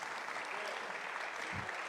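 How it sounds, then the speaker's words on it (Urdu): Loud, sustained applause from an audience at a religious gathering, a steady dense clatter of clapping that fills the whole stretch without pause. "زوردار تالیاں بجائیں گے."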